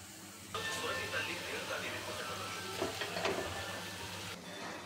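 Jowar flour appalu fry in hot oil with a soft, steady sizzle and hiss, with a few clinks from lifting them out. The sound is close but fairly quiet.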